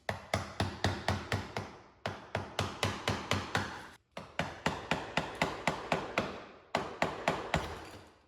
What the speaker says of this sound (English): I'm gonna start going in with a hammer and a chisel and seeing how this goes.